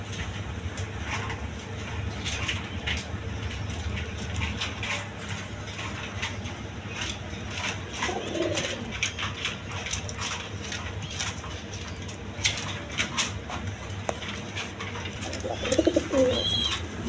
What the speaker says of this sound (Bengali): বন্ধুগণ এখানে আরেক পেয়ার দেখেন হাই ফ্লাইং গিরিবেস কবুতর